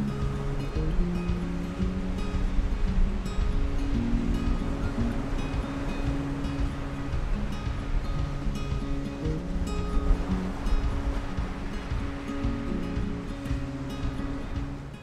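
Stormy sea surf breaks and churns on a pebble beach on the coast between Saltdean and Brighton, a continuous loud wash of rolling waves and rattling stones with wind buffeting the microphone throughout.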